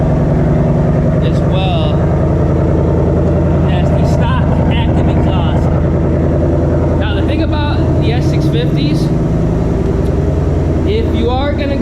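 Straight-piped Ford S650 Mustang GT with stock exhaust manifolds, caps removed and an H-pipe rumbles loud and close in a steady, throaty drone with sharper rev bursts, a voice talking briefly over it.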